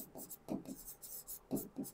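Hand writing with chalk or marker on a board during a lesson on olericulture and potato research institutes, in short scratchy strokes in irregular bursts, fairly close and moderately quiet, with no talk over it.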